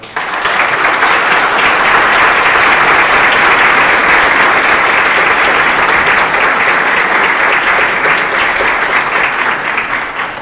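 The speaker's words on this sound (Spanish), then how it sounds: "Un aplauso, por favor." Sustained audience applause at a Catholic faith lecture, loud and dense clapping from a full room that holds steady for about ten seconds with no voices over it.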